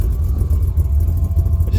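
A CUCV M1008 truck fitted with an LS3 engine and MagnaFlow mufflers idles with a steady, loud low-frequency rumble, close to the microphone, with a cooling fan whirring faintly over it.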